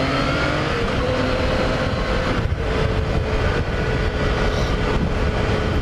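Yamaha FJ-09 motorcycle engine on a daily commute, a steady rising drone as the bike accelerates, mixed with broadband wind rush, no talking.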